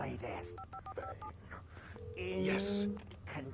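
Telephone keypad tones dialed in Alan Wake Remastered, a quick run of short beeps followed by a longer two-tone signal, with someone talking over the game sounds.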